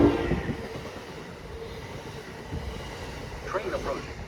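A train rolls into a station platform in Southern California, a low steady rumble and rattle of wheels with rising clatter and brake squeal near the end, while a recorded voice announces over it.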